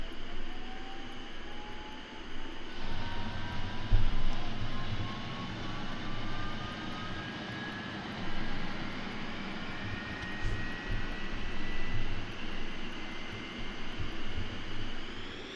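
In the IL-2 1946 flight game, a simulated aircraft engine roars steadily through a takeoff run, a broad continuous drone with a slowly rising tone and moderate loudness throughout, no talking.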